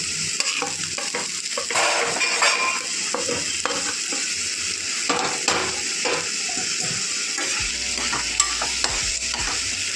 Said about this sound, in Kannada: ಪನ್ನೀರ್ ಹಾಕ್ತಾಯಿದ್ದೀನಿ. ಸ್ವಲ್ಪ ಫ್ರೈ ಮಾಡ್ಕೊಂಡಿದ್ದೀನಿ.